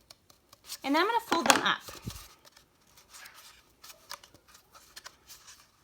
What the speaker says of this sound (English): So I'm just gonna cut equally up the side of my tube